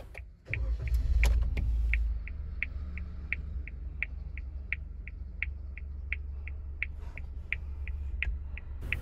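Suzuki Jimny 4x4 engine cranking and catching in a short rumbling start, then settling into a low, quiet idle heard from inside the cabin while a steady electronic chime beeps at regular intervals.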